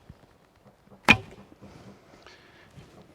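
A lightweight arrow loosed from a Malaysian traditional bow, one sharp snap of the string followed by a brief fading whoosh, close and alone in a quiet setting.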